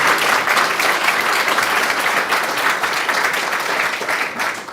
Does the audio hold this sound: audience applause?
yes